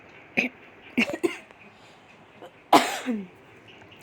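Several short, sharp coughs: a pair close together, then a louder, harsher cough after a pause, with quiet gaps between them.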